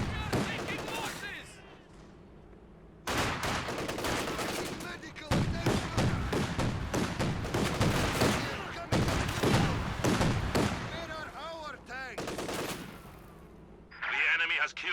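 A Flak Panzer fires at clumped infantry in Company of Heroes 2, rapid bursts of autocannon fire rattling in loud clusters separated by short pauses, with other battlefield gunfire and a voice under the shooting.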